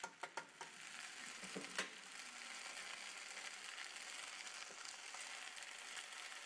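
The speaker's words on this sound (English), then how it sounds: "I added all the mixture together in the pan that's still warm, and I'm just stirring it around" A food mixture stirred around in a still-warm pan, heard as a faint, steady scraping hiss after a few quick clicks at the start.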